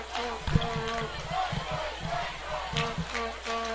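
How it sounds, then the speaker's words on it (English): Central Gwinnett Black Knights fans in the stands at a high school football game chant a rhythmic, repeated 'Let's Go Central' cheer that carries from a distance across the stadium. "you can hear the Let's Go Central cheer"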